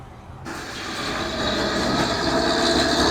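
A train passing nearby, a loud, steady rumble that sets in abruptly and keeps rolling, growing slightly heavier toward the end.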